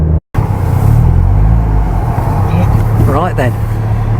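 A Lotus Esprit Turbo HC drives steadily behind a van and pulls out to overtake it, its engine a dense, continuous low rumble with some road and wind noise and a brief dropout near the start.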